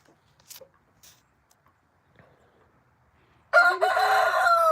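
A big rooster at an animal sanctuary crows loudly in one long, close call that enters abruptly after a few seconds of near silence with faint scattered sounds.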